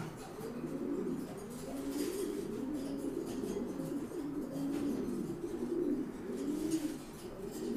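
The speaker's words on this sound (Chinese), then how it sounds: "只要有公鸽子叫啊" A male pigeon coos in low, rolling repeated phrases from a loft during pairing season, fairly close and steady, with no talking.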